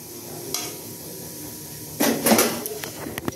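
Cumin, black cardamom, bay leaves, cloves and black peppercorns are fried in hot oil for a cauliflower sabzi. Quiet kitchen hum gives way to a burst of crackling sizzle with light clatter and stirring.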